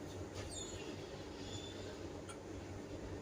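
A long-distance express train standing at platform 5 of a major New Delhi railway station, with a low steady rumble of idling carriages and faint distant squeals, quiet and without voices.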